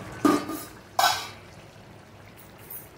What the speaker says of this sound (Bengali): এটা বেশ করে একটু নেড়ে নেব